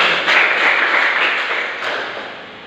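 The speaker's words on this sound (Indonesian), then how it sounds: "berikan aplaus untuk kita" A classroom audience applauds with dense, continuous clapping at moderate loudness that holds steady, then gradually fades out over a few seconds.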